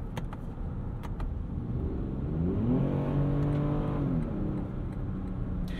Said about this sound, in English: The V6 makes a pretty cool noise.